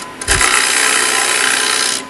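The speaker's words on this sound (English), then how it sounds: "You can cut it off with a bowl gouge simply by coming at the end like this" A bowl gouge shears wood on a turning lathe while shaping an egg, one sustained loud rasping cut lasting about two seconds, close and with no talk.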